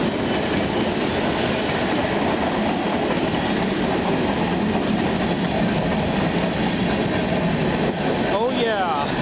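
A CN freight train rolls past at Bayview Junction in a steady, loud, broadband rumble with rail clatter throughout, and a wheel squeal rises near the end.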